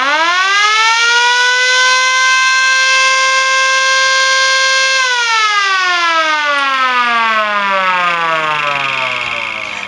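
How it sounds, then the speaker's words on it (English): A mechanical emergency warning siren, part of a home siren system running on amps, wails loudly and steadily at full pitch, then slowly winds down as its tone drops near the end. "This is the main siren system."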